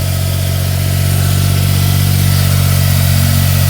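A cold Smart car engine idles high, a loud, steady mid-pitched drone with constant low rumble and no change in revs over several seconds, no talking.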